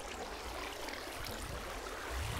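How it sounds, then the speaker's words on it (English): A giant waterfall in the Minecraft video game gives off a soft, continuous rushing wash of water, faint and steady with no talk. "Giant waterfall thing."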